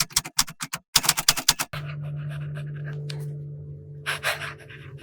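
Pelikan M1000 fountain pen with a soft fine nib scratching across a Portage reporter's notebook page, brisk close strokes in quick bursts, then a steady hum with faint scratching.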